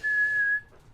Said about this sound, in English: don't whistle in the mic.